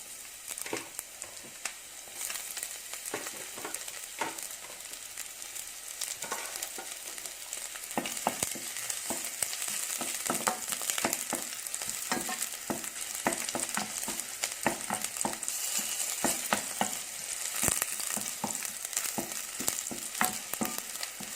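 Minced beef and garlic sizzle and crackle in a hot pan, with a continuous frying hiss broken by frequent sharp pops and the scrape of stirring.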